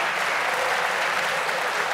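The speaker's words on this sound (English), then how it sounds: "Give yourselves a massive round of applause." Loud, dense audience applause at a British documentary awards ceremony, a steady, unbroken wash of clapping from a large crowd throughout.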